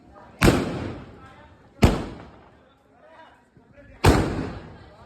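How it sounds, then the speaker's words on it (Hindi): Bottle bomb firecrackers bursting during a Diwali fireworks battle in India: three loud, sharp blasts a second or two apart, each with a crackling decay, plus faint voices in the gaps. "ये आ गया फिर से बोतल बम"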